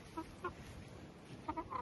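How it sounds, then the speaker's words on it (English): Free-ranging backyard chickens give several short, soft clucks in small bursts, faint and a little distant, over a quiet outdoor background. "There's the chicken that lets herself out every morning."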